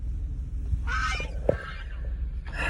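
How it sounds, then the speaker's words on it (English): Geese honk in a few loud, nasal bursts close by, separated by short pauses, over a steady low background rumble. "These geese, they are something else."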